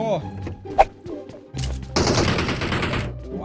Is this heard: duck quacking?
no